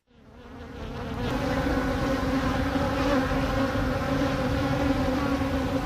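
Honeybees buzzing close by, a dense droning hum that swells in over the first second and then holds steady and loud with a rich harmonic tone.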